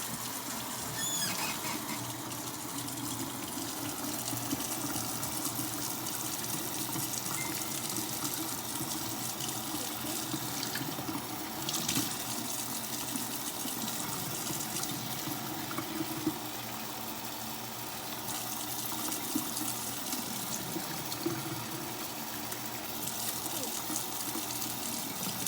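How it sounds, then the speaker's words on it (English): Warm water runs steadily from a sink tap, a continuous close hiss and splash that stays even throughout with no talking. "I will turn on warm water."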